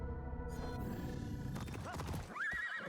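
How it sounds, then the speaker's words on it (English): A horse whinnies in Assassin's Creed Shadows, a rising neigh near the end over the clip-clop of hooves and game sounds, fairly faint overall with no talking. "There's my horse."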